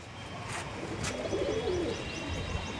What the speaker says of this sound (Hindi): तो दोस्तों ये है चीना कबूतर